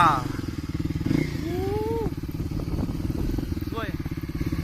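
A motorcycle engine drones steadily and loud while riding around Koh Lanta island, its rhythmic putter continuous throughout, with voices talking over it.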